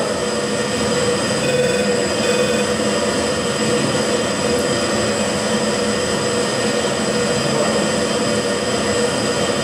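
F-14 jet engine with afterburner, a loud, steady, continuous roar that fills the scene without a break, heard close from on board the aircraft.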